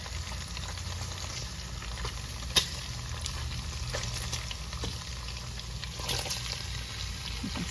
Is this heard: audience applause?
no